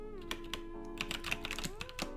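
Quick keystrokes on a computer keyboard click out in irregular bursts, close and moderately loud, over a steady low hum with faint tonal lines.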